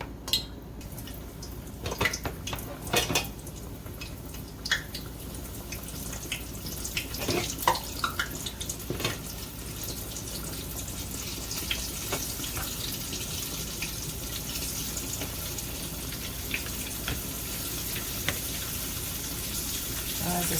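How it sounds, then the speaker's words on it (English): Water caught in hot frying grease for homemade chicken tenders pops and sizzles continuously, a dense crackling hiss with sharper irregular spits scattered throughout. "Pardon that sound, I've gotten a little bit of water in my grease"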